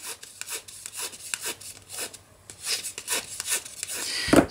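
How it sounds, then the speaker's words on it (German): Card paper is bent and rubbed over a bone folder to give it a slight curve, making a series of quick dry scraping strokes close up. "biegen wir uns das so ein bisschen übers Falzbein drüber, dass es so eine kleine Rundung bekommt."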